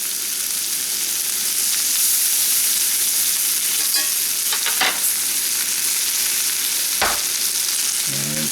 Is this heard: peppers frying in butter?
yes